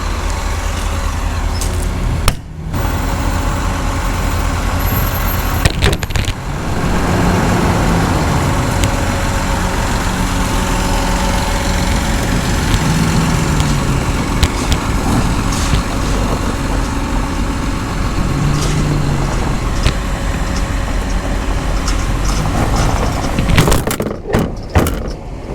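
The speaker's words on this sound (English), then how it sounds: "we have an old Chevy grain truck in here, and it of course won't start, so we're gonna try to pull start it with Dad's truck." An old Chevy grain truck that won't start is towed by a second pickup to pull-start it, heard as loud, sustained engine rumble and drivetrain drone with a few clunks and rattles, and engine tone rising and falling.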